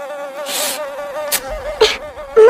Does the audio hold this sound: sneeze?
no